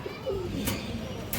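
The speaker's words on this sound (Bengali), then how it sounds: "এটা হলো দর্শক রামপুরি কবুতর" A Rampuri pigeon gives a short, soft coo, close but quiet against faint background noise.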